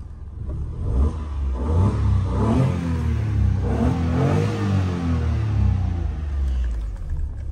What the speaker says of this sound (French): J'adore la sonorité de ce 3 cylindres.